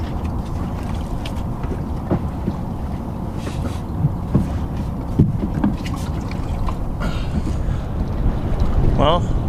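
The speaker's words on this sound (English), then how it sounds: "Well, the wind's not dying down." Steady wind buffets the microphone aboard a sailboat in a breezy anchorage, a continuous low roar with occasional knocks and creaks from the hull and rigging.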